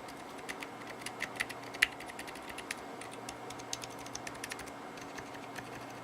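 Typing on a Zen rev 1.1 mechanical keyboard fitted with lubed Zilent 67g silent switches, a quick run of soft, muted key clicks at an irregular rhythm, close but quiet over a low hum.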